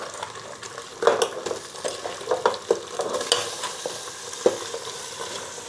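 Chopped goat head meat being stirred into frying onion, ginger and garlic, with broadband sizzling and irregular scraping strokes of a spoon against the pan, close and moderately loud, with no voices.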